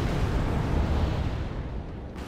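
Anti-aircraft fire and explosions rumble in Wargame Red Dragon as helicopters are shot down, a dense, continuous low roar of blasts that eases slightly near the end, with no talk.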